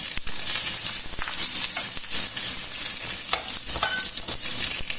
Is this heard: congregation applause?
no